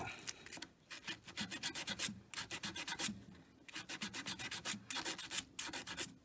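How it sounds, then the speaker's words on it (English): Hand sanding of a hammered metal ring, a dry abrasive rubbing in quick bursts of back-and-forth strokes, close and fairly quiet, with short pauses between runs. "Now I'm going to start working on the other part of the ring. Sand all the way around it"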